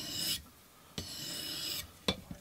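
A fixed-blade knife is drawn across a 220-grit plate on a TSPROF Blitz Pro guided sharpener, giving a few separate raspy scraping strokes, close and fairly quiet, alone.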